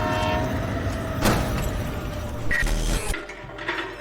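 A train rushing past or approaching with rumbling wheels, a horn blast partway through, then rattling cars before an abrupt cutoff, loud and close with no speech.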